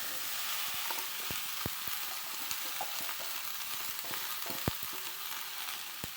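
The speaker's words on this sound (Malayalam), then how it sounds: "ഇനി നമുക്ക് അതിലേക്ക് അരിഞ്ഞു വച്ചിരിക്കുന്ന ഗോവയ്ക്ക ഇട്ട് കൊടുക്കാം." Chopped ivy gourd sizzles steadily in hot oil with onion and chili, a continuous broad frying hiss broken by occasional sharp pops and the light scrape of stirring.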